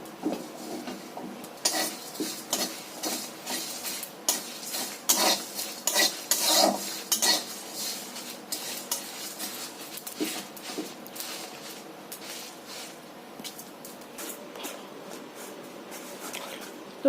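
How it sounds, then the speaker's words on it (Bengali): Dry red chillies, fennel, coriander and cumin are dry roasted in a pan, giving close scraping and rattling as a spatula stirs them in rhythmic strokes. The stirring continues throughout, with faint talk in the background. "শুকনো লঙ্কা, মৌরি এবং ধনে জিরে আমি ভেজে নিচ্ছি"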